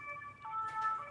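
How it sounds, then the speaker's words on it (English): Faint fire engine and police sirens wail in the distance in Paris during the Notre-Dame cathedral fire, steady tones drifting slightly in pitch beneath a low background rumble. "You can hear the fire sirens have been in permanence."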